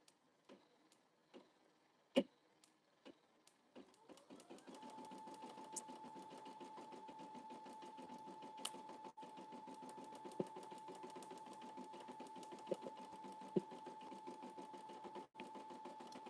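An embroidery machine stitching a letter H design runs in a steady, rapid ticking rhythm after a few scattered clicks, holding a constant hum close by with no talking.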